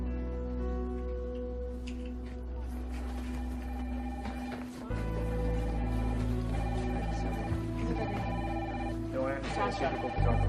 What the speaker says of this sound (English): Phones have been ringing all morning.